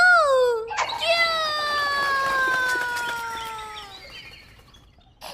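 A cartoon turkey in a Hindi animation gives a quick squawk, then one long, drawn-out, wavering clucking cry that slowly fades, loud and close with no speech over it.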